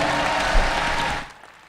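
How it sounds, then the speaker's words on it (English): A convention crowd applauds Futurama panelists at the MCM Expo, a steady wash of clapping that holds for about a second and then drops away sharply to near quiet. "Please give a massive round of applause to our panelists."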